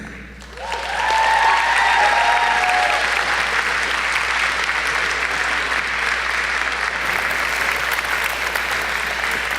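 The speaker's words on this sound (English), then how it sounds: "Keep that applause going" Audience applause at a televised awards-show gala, a sustained, dense wash of clapping that swells quickly and holds steady and loud throughout, with no voices over it.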